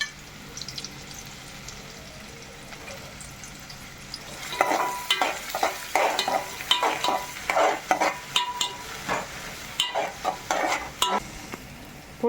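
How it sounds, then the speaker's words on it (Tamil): Onions sautéing in a pan, sizzling softly at first and then louder as a spoon stirs them, giving repeated scraping, clattering strokes close by with no talking. "வெங்காயம் வதங்குறது."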